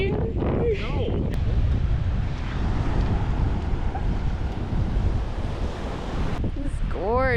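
Ocean waves and wind at a beach, a constant roaring wash of surf with buffeting wind on the microphone, close and loud, with people's voices breaking in at the start and end.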